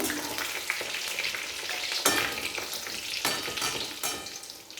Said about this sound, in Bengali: এইভাবে সব চপগুলো ভেজে নেব এরপর উল্টে পাল্টে লাল করে ভেজে নেব